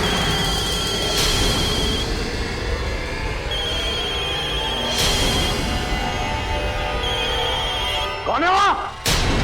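A telephone rings in an indoor drama scene, its electronic tone sounding in short repeated bursts over a steady background of music and room sound.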